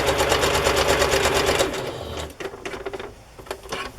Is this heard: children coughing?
no